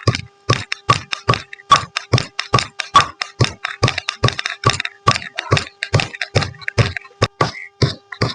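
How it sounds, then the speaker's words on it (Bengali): Fresh leaves and flowers being crushed and mashed by hand to draw out their juice, with no water: a steady run of crisp, close, thudding strokes, about two or three each second, with quiet gaps between. "এখান থেকে কিন্তু ভালো করে একদম থেতলে এর থেকে নির্যাসটা কিন্তু বের করে নেব"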